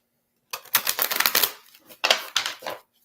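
Tarot cards are shuffled vigorously by hand in two quick bursts of riffling, crisp papery flutters separated by a brief pause, close and with no talk.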